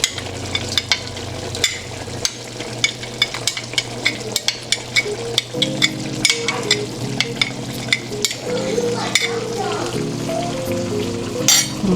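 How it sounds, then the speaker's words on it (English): Garlic frying in a carbon steel wok for a chicken and vegetable stir fry, a loud continuous sizzle with rapid clinking spatula strokes against the metal throughout, plus a low steady hum underneath. "add our garlic into"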